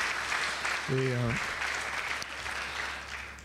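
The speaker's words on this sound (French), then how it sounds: "On peut les applaudir encore une fois?" A church congregation applauding the worship team during a French-language Sunday service, steady hall-wide clapping that runs the whole stretch at moderate level, with a voice speaking briefly over it.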